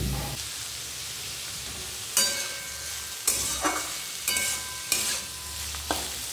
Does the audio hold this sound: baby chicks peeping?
no